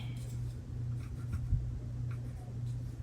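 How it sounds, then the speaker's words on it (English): A colored pencil scrapes over gouache paint on a painted coffee coaster, making a soft, continuous dry rasping close up, under a low steady hum. "color in with the color pencil, it's starting to scrape up the gouache"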